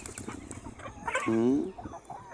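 Chickens on a small poultry farm give a brief, fairly close clucking call partway through, set against a light background of other farmyard noise.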